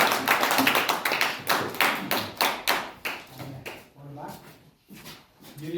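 A small group claps at a thanksgiving Mass at a special school, a close, sharp burst of individual hand claps that thins out toward the end while voices speak in the background.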